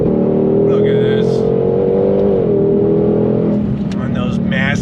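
A 2022 Ford Shelby GT500 Mustang drives hard, its engine droning steadily with a pitch shift as it shifts and brakes, loud and close throughout, with a voice talking over it.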